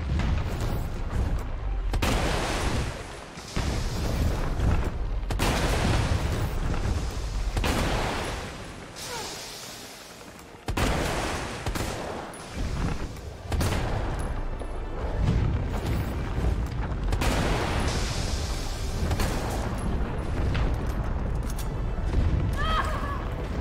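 Repeated heavy booms from a grenade launcher in the survival horror game Resident Evil 3 Remake in a laboratory setting: loud, dense blasts and rumbling keep coming throughout, with a voice talking over the noise at times.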